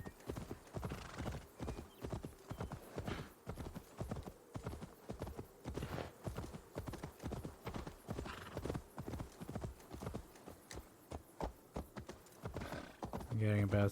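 Horse hooves clip-clopping in the video game Assassin's Creed Valhalla, a steady, evenly paced stream of hoofbeats at close range that carries on for the whole stretch, with a brief whinny-like sound near the end and someone talking over it.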